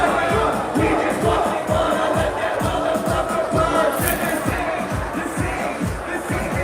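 A huge outdoor crowd at the 420 cannabis rally in Vancouver, a loud, steady wash of cheering, shouting and babble with rhythmic thumping underneath throughout.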